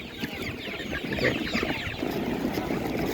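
Chickens, including small three-day-old chicks, clucking and cheeping at an open-air animal market in Nadvirna, a busy overlapping chorus of fowl close by with steady market background noise.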